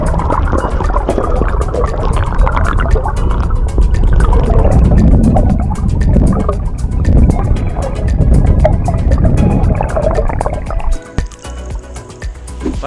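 An Aqua Marina electric scooter motor for kayak or stand-up paddle runs underwater as a steady, close, bubbly churning drone with dripping, sloshing water, easing off briefly near the end.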